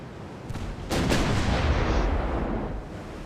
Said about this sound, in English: Got our first salvo off.